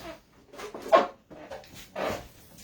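A squeaky seat in a Dodge Challenger creaks as the suspension moves, giving a few drawn-out, nasal squeaks at close range, with short pauses between them.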